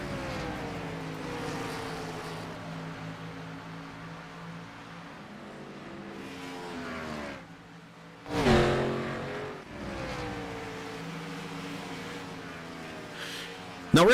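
Race car engines drone in a sim racing game at Darlington, a steady loud roar with shifting pitch bands, dipping briefly before a sharp passing burst, then the pack's hum returns.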